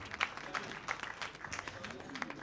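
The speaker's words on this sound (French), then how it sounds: "qu'on va raccompagner par nos applaudissements" Applause from an audience at the MADEB 2014 awards ceremony, honoring the Minister of Infrastructure, Opening Up and Transport; scattered, moderately loud clapping with audible crowd murmur, with no spoken words.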